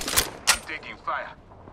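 Video game gunfire cracks out in two sharp, close reports, followed by fainter shots and a voice talking over the action.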